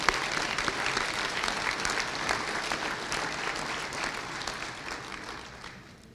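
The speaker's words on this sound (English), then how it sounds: "A round of applause for Eric." Sustained audience applause fills a college of pharmacy convocation hall, a dense steady clatter of many hands clapping that carries on evenly and starts to fade toward the end.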